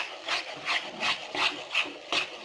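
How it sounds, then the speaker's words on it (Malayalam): Thick milk peda mixture is stirred in a pan, giving about six soft, regular scraping strokes, close but fairly quiet. "നന്നായിട്ട് ഇളക്കി കൊടുക്കണം, അല്ലെങ്കിൽ അടിച്ച് പിടിക്കും."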